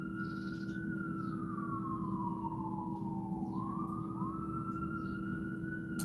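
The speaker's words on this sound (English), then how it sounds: "That's an ambulance." An ambulance siren wails steadily at a distance, its tone sliding slowly down and back up over a constant low rumble of background noise, with no talking.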